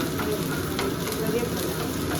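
Onion and green chili sizzle steadily and loudly in hot oil in a pan, a dense continuous frying hiss close up with faint stirring.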